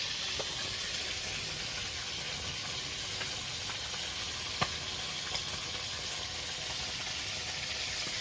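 Chicken pieces frying in oil in a pan for a festive-style curry give off a steady, moderately soft sizzle that holds evenly, with a couple of faint clicks partway through.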